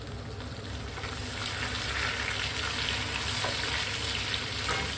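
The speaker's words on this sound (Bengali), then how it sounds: "পেঁয়াজটা হয়ে ভাজা ভালো এখানে দুইটা দুই তিনটা তেজপাতা দিয়ে দিলাম" Onions frying in hot oil with two or three bay leaves for biryani, a loud continuous close sizzle with steady crackle and light stirring, no talking.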